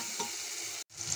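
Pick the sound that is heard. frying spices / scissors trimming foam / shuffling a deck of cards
frying spices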